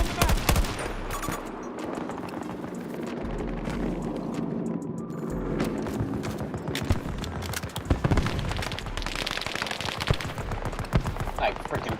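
Video game gunfire in rapid bursts and volleys with scattered booms, fairly loud and dense throughout, with someone talking over the shooting at times.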